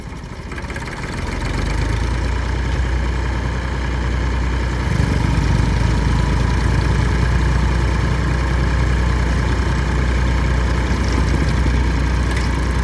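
A Massey Ferguson 135 tractor engine idles steadily and loudly up close, a constant low rumble with a slight knocking vibration that deepens partway through.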